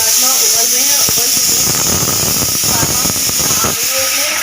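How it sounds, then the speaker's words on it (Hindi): Soaked kidney beans (rajma) boil hard in a pot on a kitchen stove, sending out a loud, steady hiss of steam with bubbling and rattling underneath, while someone talks over it. "हमारे राजमा उबल रहे हैं"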